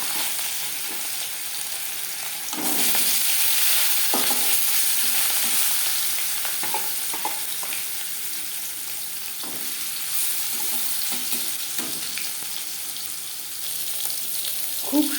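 Catla fish pieces rubbed with salt and turmeric dropped into hot refined oil, a loud burst of sizzling that settles into a steady crackling fry with intermittent spatula scrapes and taps, no talking.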